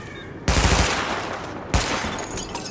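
Weapon-test gunfire in Tom Clancy's The Division on PC: two loud bursts of rapid shots at a range, the first near 0.5 seconds and the second near 1.7 seconds, each followed by a ringing tail.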